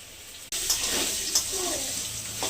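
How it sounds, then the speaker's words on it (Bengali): New potatoes and cauliflower frying in oil in a pan, a sudden loud hiss as they hit the hot oil, then steady sizzling with a few stirring scrapes, close up. "তেল দিয়েছি, নতুন আলু আর ফুলকপি কষা করবো দিয়ে আলুগুলো ফুলকপিগুলো"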